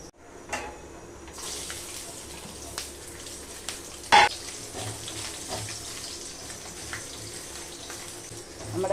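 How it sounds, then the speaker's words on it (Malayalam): Coconut pieces fry in hot oil with a continuous, close hiss of sizzling, broken by a few faint pops and clicks and one sharper clatter midway. "നമ്മുടെ തേങ്ങ എണ്ണയിൽ കിടന്നൊന്ന് മൂത്ത് വരട്ടെ"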